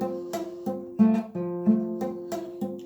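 A guitar chord strummed repeatedly in a steady rhythm, sounding muffled and buzzy with several dead, choked strings.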